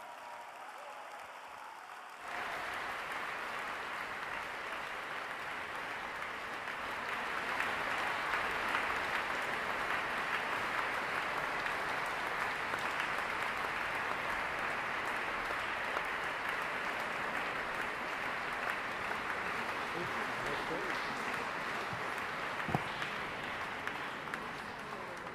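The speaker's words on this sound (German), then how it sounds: "Meine Damen und Herren, darf ich Sie um einen Applaus für die Künstler bitten?" A concert audience at a gala of European Jewish choirs applauds the choirs, dense steady clapping that swells after a quiet start and holds loud and even throughout.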